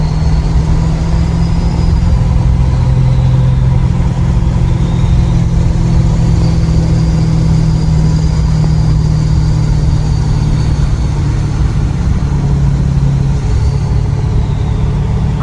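A 2018 Ford F350 diesel pickup with compound turbos and 4.30 gears runs steadily near the mic around 2,500 rpm, a loud continuous low drone with a faint turbo whine above it and no talking.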